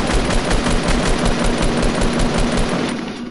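Rapid automatic gunfire in the battle royale game Fortnite, a loud continuous burst of closely spaced shots running for about three seconds before easing off.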